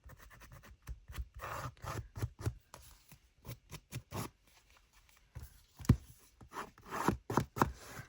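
Scissors blade scraping along the edge of thick paper to distress it for a junk journal index card, a series of short close rasping strokes in uneven bursts.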